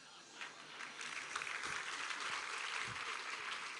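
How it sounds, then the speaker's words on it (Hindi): An audience claps steadily and densely throughout a Hindi sermon by a Jain acharya, forming a continuous wash of hand claps with no break. "अब ताली बजाने की क्या आवश्यकता है?"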